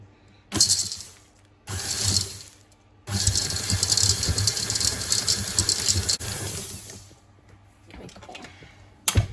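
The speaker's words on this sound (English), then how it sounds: "And again we're going to mix it again just for a few minutes" Electric mixer beating crumbly Crème Egg cookie dough, loud whirring and rattling bursts, a short burst, another, then a long continuous run of several seconds before stopping, with a brief final clatter.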